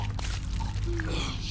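Water pours in The Walking Dead video game, a soft continuous liquid trickle over a low background hum, with faint splashy detail toward the end.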